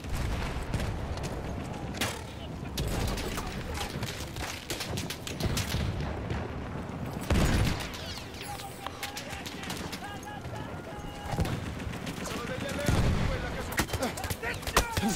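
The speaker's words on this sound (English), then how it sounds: "Oh my god, that artillery just needs to go." Battlefield 1 battle noise with repeated booming blasts and gunfire rolling through the scene, several heavy hits spread over the stretch amid ongoing combat clatter.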